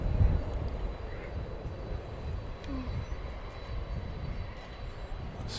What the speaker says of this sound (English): Got a Gulfstream G450 coming in from Monterrey in Mexico